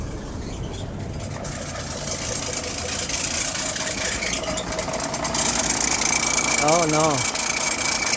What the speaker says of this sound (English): the compressor on the bottom is bad